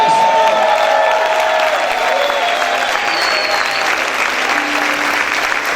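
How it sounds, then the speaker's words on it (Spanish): Loud applause and shouting from a church congregation during a Spanish-language sermon, dense continuous clapping with cheers, whoops and voices mixed in throughout, steady and full for several seconds. "Grite y aplaude fuerte"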